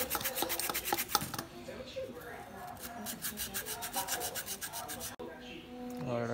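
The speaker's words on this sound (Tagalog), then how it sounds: "Konting liha lang lilihan ni Kuya Alan para gumaspang." Rhythmic rasping strokes of sandpaper scrub back and forth against a rubber coolant hose on a Honda Click 125i scooter, close and steady, about a dozen quick passes.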